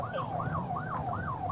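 A police car siren wails in a fast, repeating up-and-down yelp, steady and moderately distant, with a low rumble of traffic underneath.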